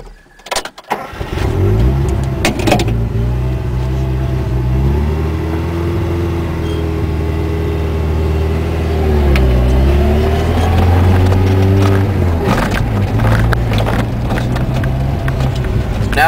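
A Dodge Ram 50 (Mitsubishi Mighty Max) pickup engine hums close by while parking, starting after a few knocks and holding a steady idle whose pitch dips and rises midway as the truck maneuvers.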